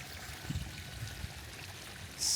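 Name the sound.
water flowing onto flooded construction site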